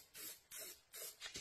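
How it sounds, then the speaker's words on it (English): Penetrant dye sprayed from an aerosol can onto a cleaned engine part for crack inspection: four short hissing bursts in a steady rhythm, close and fairly quiet, with brief pauses between them. "So I'm going to spray the dye on here."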